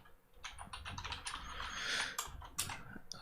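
Rapid keystrokes on a computer keyboard while code is written, a dense run of light clicks and clatter with brief pauses, close and fairly quiet, with no voice.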